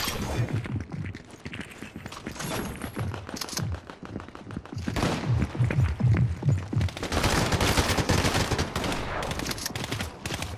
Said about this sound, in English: Ooh, we got people shooting already!